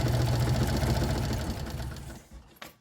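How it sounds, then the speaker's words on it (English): A sewing machine stitches a straight seam on a messenger bag with a rapid, steady mechanical chatter close by. It slows and fades toward the end, then gives a brief final clunk. "So I am sewing down straight"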